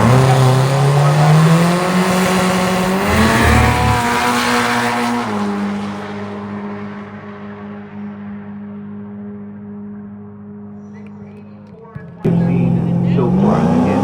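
A turbocharged V8 Volkswagen drag car roars off down the strip at a Las Vegas drag event, its engine pitch rising through the gears before fading into the distance, followed by a sudden loud burst of noise.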